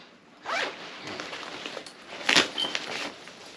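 A backpack zipper is pulled open in a few quick strokes, close by, with light rustling of fabric between pulls.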